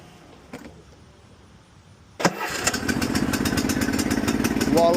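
A used riding lawn mower engine, fitted with a new battery and set to run with the choke on, cranks once and catches with a sharp burst, then settles into a loud, rapid, steady idle close by.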